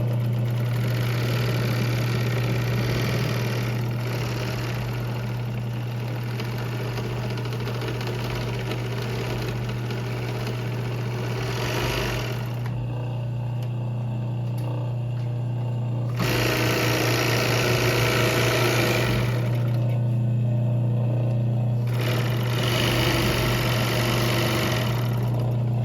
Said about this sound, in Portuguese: ver se a minha overlock também é ruim de cortar